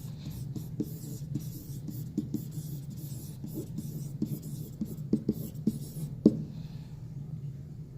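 Pen scratching notes onto paper at close range, a steady soft rasp broken by light taps and quick strokes for several seconds before trailing off.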